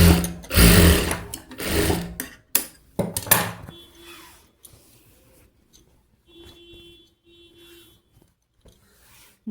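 A sewing machine stitches a puff sleeve in several short, clattering runs separated by brief pauses, close and clear after a louder, rougher start.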